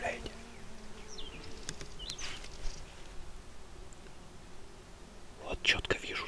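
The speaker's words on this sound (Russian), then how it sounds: "Комары невозможно, не дают даже прицелиться," Mosquitoes whine faintly around a hunter waiting outdoors, a thin buzz under quiet whispered talk, with a few brief knocks and rustles.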